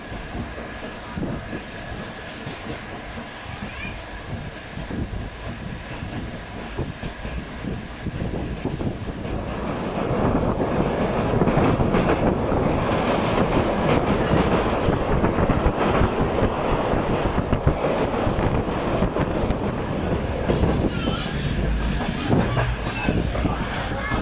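Shalimar Express train on the ML1 line in Pakistan, running steadily with continuous rumble and wind roar that grows louder about halfway through, faint clatter of wheels throughout.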